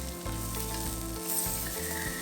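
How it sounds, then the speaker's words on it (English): A pork chop fries in a pan with a steady, dense sizzle that runs unbroken and fairly loud throughout, with no voices. "Fry them for about 2 to 3 minutes till the bottom is golden brown."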